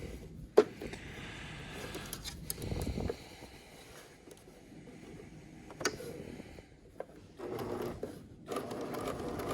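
A sewing machine back stitches a waistband, with short stop-start runs of fast mechanical whirring and ticking broken by clicks and pauses, close and moderately quiet, with no one talking.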